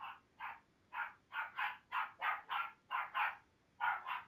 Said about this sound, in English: Hold on, I got dogs. Can you hear dogs?